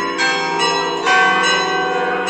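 Church bells peal in overlapping strikes for an evening religious procession honouring the Virgin Mary in Nea Michaniona, Greece, loud and continuous with repeated fresh strokes over a sustained ringing wash.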